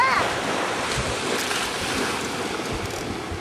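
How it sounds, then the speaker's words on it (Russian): Ocean waves wash onto a Florida beach at Treasure Island, a steady broadband surf roar blended with wind buffeting the microphone, fairly close and continuous. "Смотри, волна приходит, больше вода становится."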